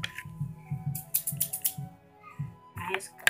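Scissors snip through material for a handmade plush toy, a steady run of short close crunchy cuts at an even rhythm, with brief pauses and faint voices in the background.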